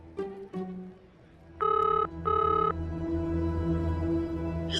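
A telephone rings in two long bursts with a pause between, going unanswered, over a low hum and a steady background drone, with brief voice-like sounds at the start.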